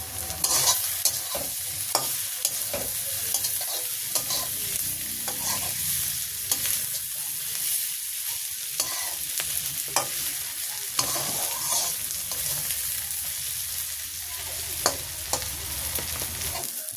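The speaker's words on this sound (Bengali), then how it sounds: "পেঁয়াজটা সুন্দর করে ভাজা হয়ে গেছে, আমি এখন এর উপরে মাছ দিয়ে দেবো।" Fish frying in a pan over already fried onions in a village kitchen, a steady close sizzle with scattered clicks and scrapes of stirring running throughout.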